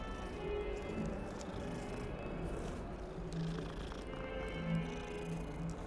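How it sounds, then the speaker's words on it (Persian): A cat in the video game Hogwarts Legacy makes a steady, low, rumbling purr with soft vocal tones throughout, fairly faint against a continuous game background. "صدا گربه میاد."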